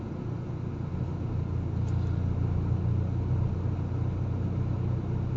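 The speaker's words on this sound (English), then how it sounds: "What is that car doing?" A car rumbles along a seafront road in Essex, a steady low engine and tyre drone that swells slightly as it passes at moderate distance.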